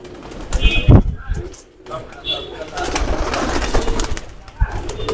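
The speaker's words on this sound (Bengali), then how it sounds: "এগুলো ডাবলা কবুতর" Dabwala pigeons coo softly nearby while someone talks over them, with some rustling and flapping around the birds.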